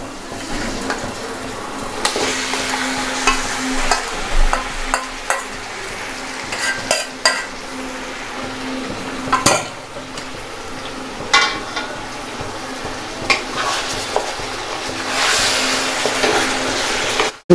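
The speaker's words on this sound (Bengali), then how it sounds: "তো এটার মধ্যে আমরা এবার চিকেনগুলো দিয়ে দেবো।" Marinated chicken pieces frying in a hot pan for biryani, a loud continuous sizzle with repeated scraping and stirring clatters throughout, no talking.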